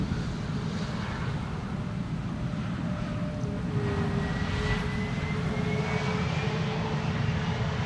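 An EasyJet Airbus A320neo arriving from London Luton on a gusty, crosswind day, its engines a loud, continuous roar with a faint rising whine drifting across, heard steadily from nearby with wind in the background.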